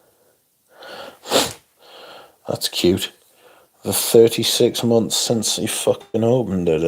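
A person sneezes with a sharp burst during a fragrance livestream, with breathy sounds around it, and then people talk over the rest.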